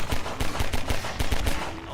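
Rapid SMG fire in the Half-Life 2 video game, a loud string of about a dozen sharp, closely spaced shots in an uneven burst, trailing off into a quieter tail.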